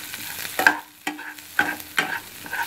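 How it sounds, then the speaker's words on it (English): Green chillies stir fry in a hot pan, with short bursts of sizzling and the scrape of stirring recurring at an uneven rhythm, fairly close and moderately quiet. "add your green chilies, and again stir fry them for about like 2 minutes"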